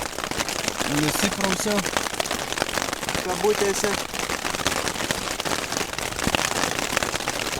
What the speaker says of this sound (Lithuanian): Ledukais varo.